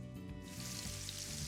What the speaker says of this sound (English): I have the meatloaves frying,